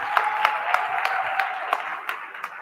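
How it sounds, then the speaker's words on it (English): Scattered clapping from a small group at a business workshop in Kagiso, a handful of distinct claps rising over a thin steady applause bed that stays moderate throughout. "I just want to give a round of applause to the participants"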